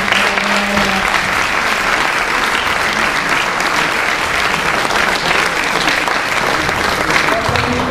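Loud, sustained applause from a conference audience in a hall, continuous dense clapping throughout with no pauses.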